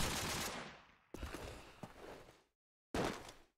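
SMG fire in a competitive video game tournament match, rapid sustained bursts of automatic gunfire in three loud close strings separated by brief gaps, with no voices.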